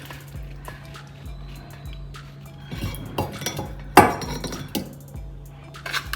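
Pickle being spooned into a glass bottle, with repeated close clinks and taps of utensil against glass, uneven in rhythm, one sharper knock midway, no talking.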